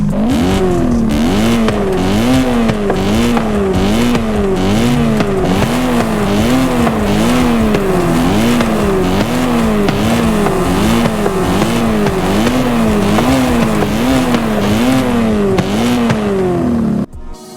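A V10-swapped BMW E30 drives around a hotel property, its engine note rising and falling in repeated rhythmic revs, loud and close with no talking over it.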